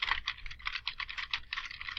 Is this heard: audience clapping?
no